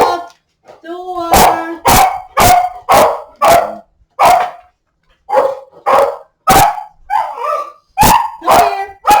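A dog barks repeatedly in sharp, loud bursts at a delivery at the front door, with short gaps and a few whiny yips between barks.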